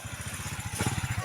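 A motorcycle engine runs close by with a steady, rapid low putter, growing a little louder and rougher toward the end of a brief stretch.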